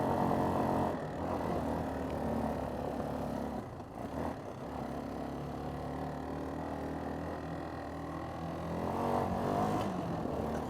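A Kawasaki Bayou 400 4x4 ATV engine drones steadily and loudly while being ridden, a continuous close rumble with slight swells in throttle and no talk over it.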